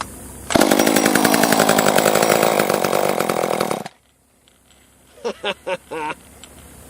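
A worn top-handle chainsaw under repair runs on choke, a loud, rough buzzing engine for about three seconds before it cuts out, followed by a few short bursts of sound.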